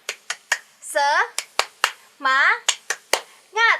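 A woman leads the Indonesian children's clapping chant tepuk semangat, sharp single claps in a quick rhythmic pattern alternating with short sung or spoken syllables between the clap groups, close and clear.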